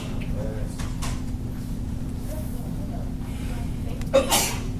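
A single short sneeze near the end, loud and close, over a steady low hum with faint background rustling.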